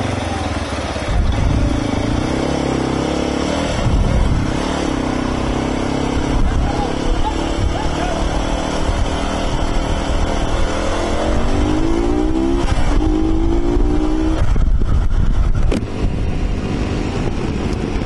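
A motorcycle engine revs and drones up close while threading past stopped traffic on a road toward Sarsala Bay near Dalaman, with rising revs near the end and people talking over it.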